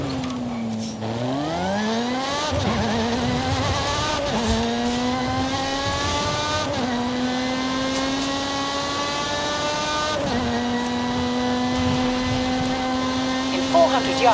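A Volkswagen Golf GTI in the racing game Forza Horizon 5, its engine note climbing steadily through the gears with sharp drops at each shift, loud and continuous under a voice.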